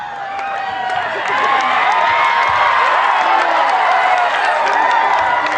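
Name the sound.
crowd applauding and cheering at school fancy dress event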